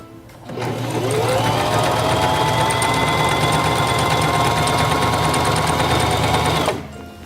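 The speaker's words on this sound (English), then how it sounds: "Place the fabric under the presser foot, lower the presser foot, and begin sewing." A Singer Talent 3323 portable sewing machine stitches through fabric in one steady, fast run, a loud even mechanical whir and rapid needle clatter that starts abruptly and stops cleanly after several seconds.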